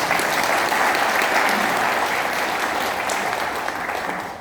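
Sustained applause from a church congregation thanking the worship team at an anniversary thanksgiving service, a dense steady wash of many hands that fades slightly toward the end.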